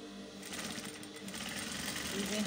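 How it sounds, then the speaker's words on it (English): Sewing machine stitching along a wide-leg jumpsuit seam, a steady continuous mechanical whir with dense rapid stitching that runs loud and close for the whole stretch, with no talk over it. "then you sew the other side."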